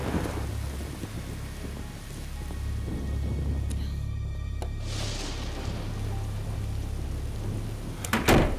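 Steady rain pours outside on a stormy night, with a low rumble of thunder underneath and a few sharp knocks near the end. There is no talking.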